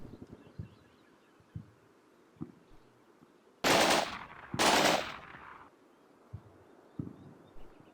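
In the Combat Mission: Cold War video game, two loud bursts of machine gun fire, each roughly a second long, break up a quiet stretch of scattered faint thuds.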